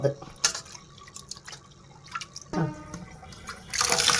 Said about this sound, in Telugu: మళ్ళీ వేస్తున్నానండి వేడి నీళ్ళు